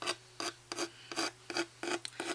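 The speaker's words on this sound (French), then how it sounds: "j'essaye d'étaler assez finement la colle" Glue from a tube being spread thinly onto very fine ribbon for a decorated box: a series of short, close raspy rubbing strokes in a steady rhythm, about six or seven of them, with no talking.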